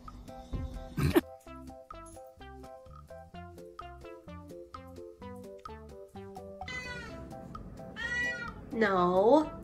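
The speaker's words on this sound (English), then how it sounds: "This is my cat Peaches" A pet cat meows several times in drawn-out, wavering cries toward the end, following a run of rhythmic background music with faint voices.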